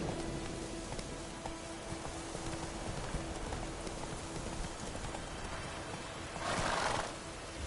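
Roach the horse gallops in The Witcher III, a steady clip-clop of hooves running through the whole stretch, with a louder whinny or snort bursting out near the end over a dense game soundscape.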